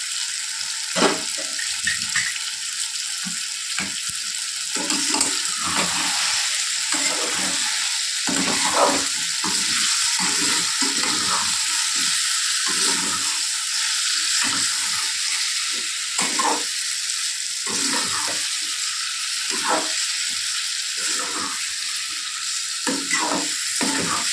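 Potato fry stirred in a sizzling pan, a steady bed of frying hiss with repeated scraping stir strokes throughout, close and moderately loud, no talking.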